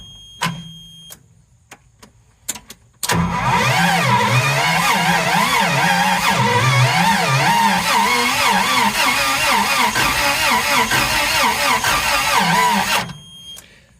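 Toyota forklift engine turning over on its starter during a spark test, a loud, close, rhythmic cranking churn that runs unbroken for about ten seconds after a few clicks and knocks, then stops abruptly.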